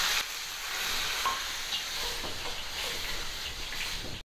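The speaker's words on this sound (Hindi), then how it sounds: "तो हुण इहदे विच आपां प्याज ग्राइंड कीते हुए पा देंगे।" Ground onion paste tipped into hot oil already tempered with dry spices like coriander, fenugreek and mustard seeds, giving a steady, close, fairly loud sizzle and fry that holds throughout with no talking.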